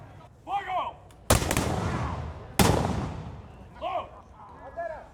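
Two loud booming cannon blasts with long rumbling decay at a historical reenactment of Drake's raid on St. Augustine, between bursts of someone speaking.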